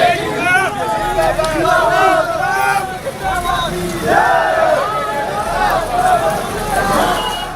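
A large protest crowd chants slogans against the government outside a Delhi metro station near Jantar Mantar, a dense, loud roar of many voices rising and falling in waves throughout.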